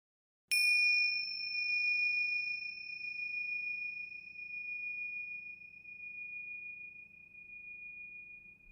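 A single bright bell chime strikes once and rings out alone, its pure tone fading slowly over several seconds into near silence.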